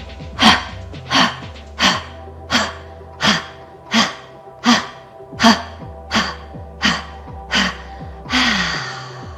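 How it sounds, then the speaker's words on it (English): Forceful yoga breathing exercise known as skull shining breath: a steady series of about a dozen sharp, loud nasal exhalations in even rhythm, ending in a longer drawn breath, close to the microphone with no talking. "There's a reason that it's called skull shining breath, because you're increasing your energy flow."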